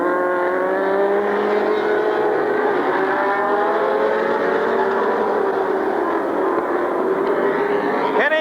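Race cars running side by side at a speedway during a 1992 fall classic event, a continuous loud roar of engines heard from a distance over crowd and track noise.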